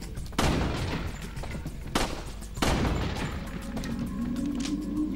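Heavy gunfire in the video game Resident Evil 4, with several loud booming shots spaced about a second apart over a steady rumbling game background, no talk.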